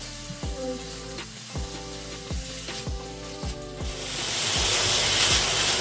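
Carrots fry in hot oil in a pan for Chinese chao mian with beef, giving a steady loud sizzle punctuated by regular stirring knocks, the hiss swelling toward the end.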